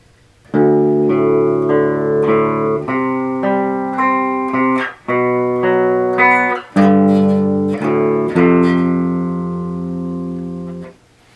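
Slow, sustained distorted guitar chords ring out one after another in the heavy main riff of a song, each held for a beat or two before the next.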